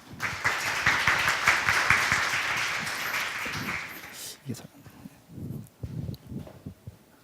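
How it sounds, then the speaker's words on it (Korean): Audience applause fills a large hall at a developer conference for cloud software, broad and steady crowd clapping that fades after about four seconds into a quieter room with scattered sounds. "네, 박수로 부탁드립니다."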